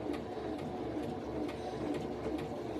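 Singer Start 1304 sewing machine stitching along a traced curved line at a slowed speed, a steady close whirring hum with a faint rhythmic ticking running through the whole stretch.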